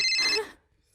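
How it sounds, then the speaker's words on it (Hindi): A phone ringtone sounds in a home, a short bright electronic trill close by that cuts off after under half a second. "ओह, प्लम्बर का फोन है।"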